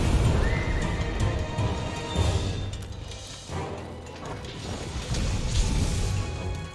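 A loud horse whinny from Monster Hunter rises over a dense wash of game sound, with hoof clops and clanking effects continuing around it.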